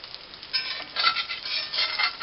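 An omelette sizzles softly in a pan as it is flipped with two spatulas, with gentle scraping pulses and a steady frying hiss, close and fairly quiet.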